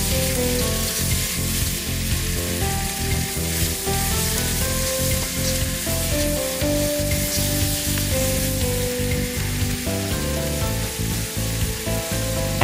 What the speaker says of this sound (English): Fry until the chili has softened.